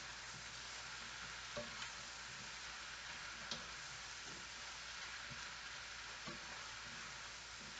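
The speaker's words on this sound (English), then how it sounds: "Those will cook down. Give it another little stir." Mushrooms cooking down in a large pot for Hungarian mushroom soup, with a steady, faint hiss of sizzling and a few soft clicks and taps as they are stirred.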